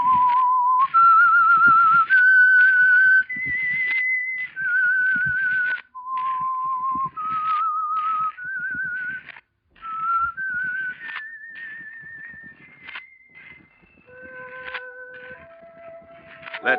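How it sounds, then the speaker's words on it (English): A lone person whistles a slow, wandering melody of sustained notes stepping up and down, a 1948 radio show's theme, clear and close with faint background crackle. "Let that whistle be your signal"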